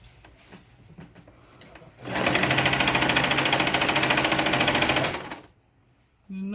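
A sewing machine stitches an elastic headband down onto a bonnet cap in one steady, loud mechanical run of about three seconds, preceded and followed by quieter handling sounds.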